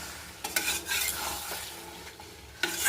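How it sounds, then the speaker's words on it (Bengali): Peas and boiled potatoes being stir-fried for chicken ghugni, with a spoon scraping and clinking in the pan over a low sizzle, a few sharper knocks standing out. "এখন এইভাবে করে ভালো করে একটু কষিয়ে নিয়ে সামান্য একটু জল ঢেলে দিলে"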